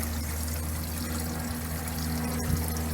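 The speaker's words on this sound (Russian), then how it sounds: "Вот этот источник в центре посада." Spring water pours from a public spring in Sergiev Posad in a steady, continuous stream with a low hum underneath; no one speaks.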